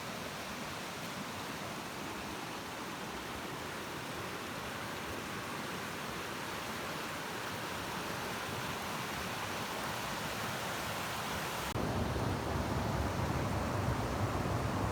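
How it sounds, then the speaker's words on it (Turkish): The Pabuç stream, swollen after heavy rain, rushes in a steady, dense roar of flowing water close by, growing louder toward the end. "Pabuç Deresi'nin son hali arkadaşlar."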